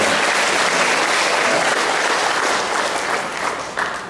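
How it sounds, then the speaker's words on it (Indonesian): Sustained applause from a graduation ceremony audience for the Akper Pemkab Lahat nursing academy, a dense, steady wash of many hands clapping throughout, easing slightly toward the end. "tepuk tangan untuk Akper"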